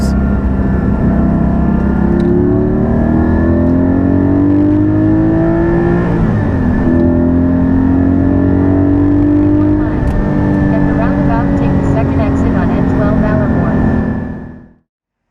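A Porsche 718 Cayman GT4 accelerates hard on an open road in Luxembourg, its engine note climbing through rising pitch sweeps with gear changes, loud and close from inside the car throughout.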